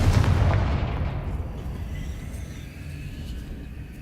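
Booming fire-spell explosions from the Confringo curse in Hogwarts Legacy, a loud burst at the start rolling into a sustained low rumble that slowly fades.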